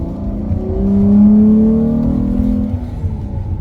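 A Dodge Charger with an aftermarket pedal box and a mild tune, still in stock mode, revs while driving: a loud engine note climbing and falling in pitch over a few seconds, steady motor hum underneath.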